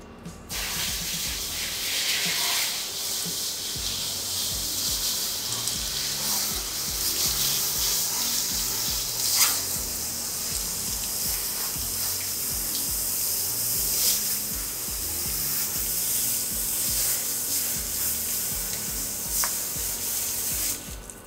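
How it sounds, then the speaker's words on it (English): Running water rinses a Mesclatore bag in a steady, close, continuous spray-like hiss with a rubbing texture, lasting the whole stretch without pauses and with no talk. "Our bag is rinsed and clean."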